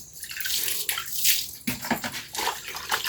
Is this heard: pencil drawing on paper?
no